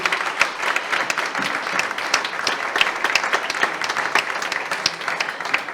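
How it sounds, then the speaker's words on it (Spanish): Sustained audience applause at a congress session, many hands clapping densely and steadily at moderate loudness, with no talk over it. "Un aplaudiment, sisplau."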